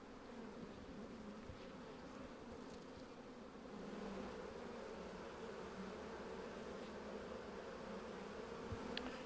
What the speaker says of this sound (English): This is a field bee that just came in with a load of pollen.